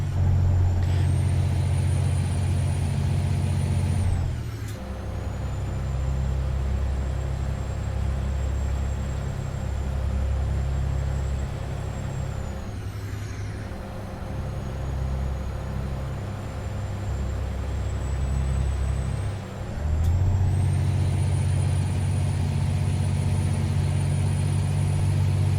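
A semi truck in American Truck Simulator drives along an interstate with a loud, steady engine drone. The engine note shifts through gear changes and a high whine rises and falls, with no talking.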